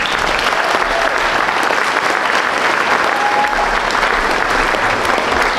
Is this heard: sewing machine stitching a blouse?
no